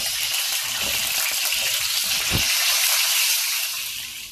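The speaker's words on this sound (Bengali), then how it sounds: "আমি একটা ফ্রাই প্যানের মধ্যে তেল দিয়ে তেল গরম হয়ে গেছে, ডিমগুলোকে একটু হালকা করে ভাজার জন্য ডিমগুলোকে ছেড়ে দিব" Eggs fry lightly in hot oil in a frying pan for an egg korma, a loud, continuous, close sizzle with crackling spatter that stays steady and then eases slightly at the end, with no talk.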